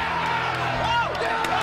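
A pro wrestling arena crowd roars steadily as fans rise to their feet, a dense wash of cheering and whoops with a few raised voices standing out.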